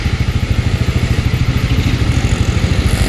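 A Bajaj Pulsar NS 400 Z motorcycle engine runs loud and close with a steady, rapid thumping pulse and mechanical clatter, holding an even idle-like rhythm the whole time.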